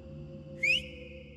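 A single short whistle used as a warning signal, one rising clear tone lasting a fraction of a second over a steady low background drone.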